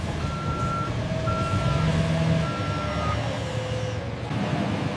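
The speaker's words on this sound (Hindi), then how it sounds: "ऑर्डर मिलने पर फोर्कलिफ्ट इन्हें ट्रकों तक पहुंचाती है।" A forklift loading sacks of sugar onto trucks sounds its reversing alarm, a series of evenly spaced electronic beeps over a low engine rumble, moderately close.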